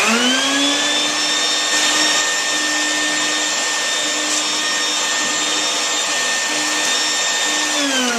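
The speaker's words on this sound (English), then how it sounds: "so use the vacuum as much as you can to get up the majority of it" A vacuum cleaner sucks dust out of a desktop computer's cooling system and fan, giving a loud, steady, close-up motor drone with a high whine that runs without a break from start to finish.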